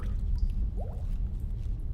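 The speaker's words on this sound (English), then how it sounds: "What's bubbling?" Liquid bubbles and drips quietly in a horror video game, a few small wet squishes and gurgles over a low, steady ambient drone.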